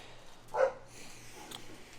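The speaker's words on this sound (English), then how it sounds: "Puppy's going crazy right now." A puppy gives one short, excited bark in a kitchen beside a grill where pork chops are being cooked, quiet and brief against a low steady hum.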